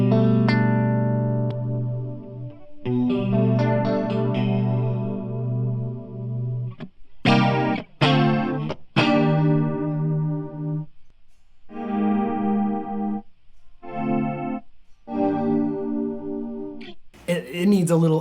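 Electric guitar played through a Yamaha SPX 90 on its Pitch Change C preset in stereo, into EVM 12L speakers: sustained shimmering chords and separate stabbed notes with a thick detuned chorus sheen and gaps of silence between phrases.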